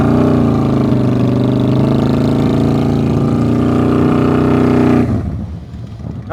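Motorcycle engine idling and revving gently during slow-speed riding practice, a loud, steady low-pitched drone close by for about five seconds before dropping away quickly.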